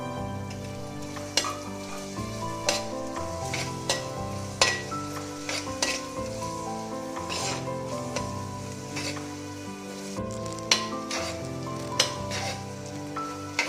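Mint and coriander leaves sauté with tomatoes in a pan for vegetable biryani, with a soft continuous sizzle and recurring spoon scrapes and clinks against the pan, while a tonal musical background plays throughout.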